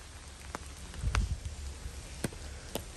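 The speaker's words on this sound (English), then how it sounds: "So it's actually raining a little bit today." Light summer rain falling on a van in Sweden: a steady soft patter with scattered louder drops and taps over a low rumble, fairly faint and with no talk.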